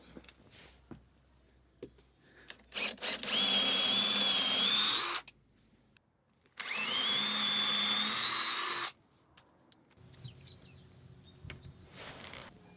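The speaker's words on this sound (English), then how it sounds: "So what I have is a plug cutter for my drill, and I've got the little offcuts of wood, so I can cut some plugs into those." A power drill fitted with a plug cutter bores into small wooden offcuts in two long, steady high-pitched whining bursts separated by a pause, close and loud, with small handling knocks around them.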